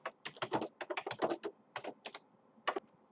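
Someone types a name on a computer keyboard, with close, crisp keystrokes in quick irregular runs and a brief pause near the end.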